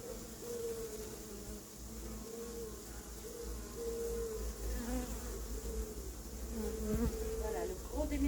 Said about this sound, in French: Allez les petites abeilles.